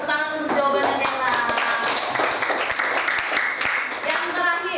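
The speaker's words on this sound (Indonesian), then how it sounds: "tepuk tangan untuk jawabannya Dela." A classroom group claps briefly, with a loose run of hand claps under a teacher speaking.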